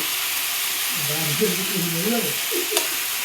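Chopped tomatoes stirred in a hot frying pan, a steady sizzling hiss running throughout with a soft scraping stir, while someone talks over it.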